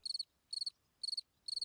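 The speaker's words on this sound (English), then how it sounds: "male crickets try to attract females with their songs" Male crickets sing on open ground in Portugal's mountains, giving four evenly spaced bursts of rapid, bright chirps, each a quick trill of pulses, close and clear over near silence.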